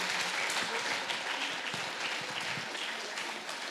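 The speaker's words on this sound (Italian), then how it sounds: "Applauso per le nostre vallette." Sustained audience applause at a convention, a dense, even wash of many hands clapping that fades slightly toward the end.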